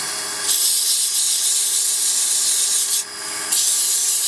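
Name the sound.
sandpaper sanding wood on lathe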